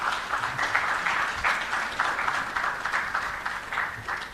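An audience at a stakeholder forum in Ghana on waste management and sanitation applauds a speaker, a steady wash of many hands clapping that carries evenly through the whole stretch with no voices over it.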